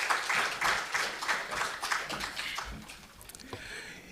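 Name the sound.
audience applause at a conference opening ceremony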